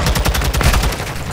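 Rapid, loud automatic gunfire in Call of Duty: Modern Warfare 2, a tight burst of repeated shots filling the whole moment up close.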